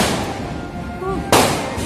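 Firecrackers burst in a nearby street during a festival, with a sharp loud crack near the end over a low background rumble and some talk.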